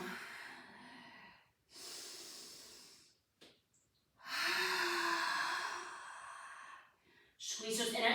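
A Pilates instructor breathes out hard during a slow swimming exercise on the mat, several long, close, breathy exhales in separate bursts with short pauses between them.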